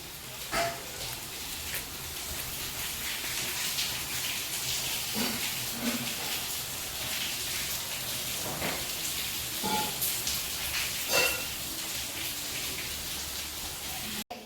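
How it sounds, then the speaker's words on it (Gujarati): Heavy rain pours down in a steady, dense hiss, with scattered louder drops tapping nearby. "બહાર જોરદારની વરસાદ હવે પડવાનું શરૂઆત થઈ ગયું લાગે છે"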